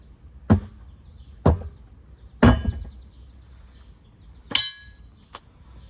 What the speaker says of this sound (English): Just glance this with the hammer.